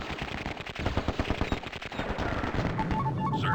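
Rapid bursts of automatic gunfire from the 1990s real-time strategy game Dark Colony, dense overlapping shots in quick rhythmic volleys under battle noise, ending with a short electronic beeping tone.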